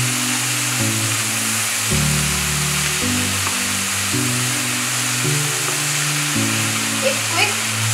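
Roughly chopped medium tomatoes sizzle and fry in a pan during a quick stir, a steady close hiss with a low shifting hum under it and no talk.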